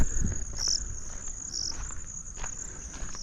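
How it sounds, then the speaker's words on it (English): Steady high-pitched cricket chirping carries through the whole stretch, with a few brighter bursts, over faint low rustling and shuffling footsteps, on a road among mud houses on the outskirts of Kisumu, Kenya. "You can hear even some crickets."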